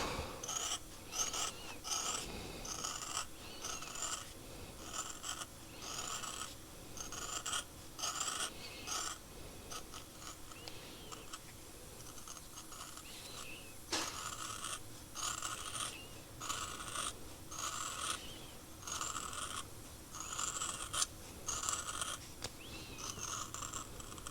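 Gasket material is cut to rough size for a Power Wagon, a string of fairly quiet rasping snips and scrapes in an irregular rhythm over a steady low background.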